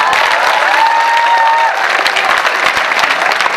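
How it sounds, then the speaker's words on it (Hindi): A school audience claps loudly and continuously in a packed hall, dense applause with scattered cheers and a brief whistle-like tone near the start. "जोरदार तालियां बजाओ।"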